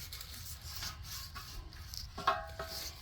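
Hands rubbing lubricant around the inside of a tube-type tire during remounting on a wheel, a soft, close, continuous scuffing with a brief sharper rub near the end and no talking.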